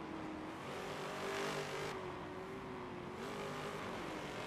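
A Forza race car holds a steady, moderately loud engine drone with a slight rise in pitch, whining along without any voices over it.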